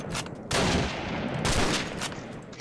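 Sniper rifles fire in the Minecraft Flans Mod game as loud, dense, crackling bursts that follow each other in quick succession with almost no gap, with no voices over them.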